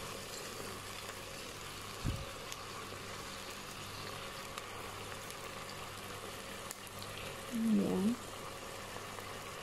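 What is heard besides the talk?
spinach cream pasta sauce boiling in pan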